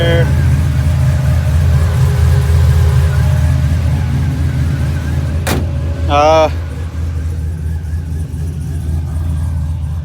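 A 2008 Chevrolet Silverado with a new Magnaflow exhaust idles nearby with a steady, deep, low rumble throughout, and a brief click and a short voice break in over it.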